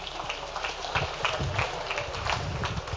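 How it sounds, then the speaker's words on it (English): Audience applause in a lecture hall, a steady patter of many hands clapping together for about three seconds at moderate volume. "Everybody give Taryn a round of applause"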